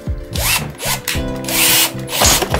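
A power drill whirs in several short bursts, its pitch sliding up and down as it drills out a metal rivet on a snowboard bumper, close and loud.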